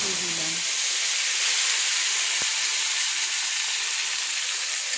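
Chopped tomato goes into hot oil seasoned with panch phoron and sets off a loud, continuous sizzle and hiss, with a short burst of voice at the very start.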